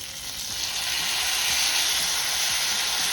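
Chili sauce sizzles and hisses in a hot pan while fish manchurian cooks at home, a steady, close frying sound that swells slightly, with occasional faint stirring and no talk.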